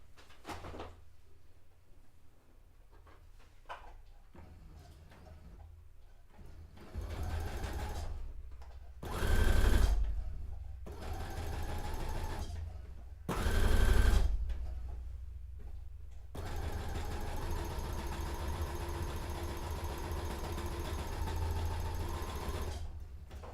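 A sewing machine stitches fabric for a white dress in bursts of whirring, starting and stopping several times, with two louder, faster runs in the middle and a long steady run at the end; no talking.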